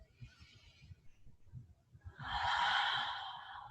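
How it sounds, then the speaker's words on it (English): A deep, full breath taken during a yoga class: a long, soft, airy exhale rises and trails off near the end, after quiet low room murmur. "1 more big full breath here."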